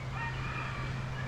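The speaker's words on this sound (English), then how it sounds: "You can probably hear the roosters in the background." Roosters crow continuously in the background at dawn at Sparrow's Flats on Doi Inthanon, Thailand, a steady layered chorus with no talk over it.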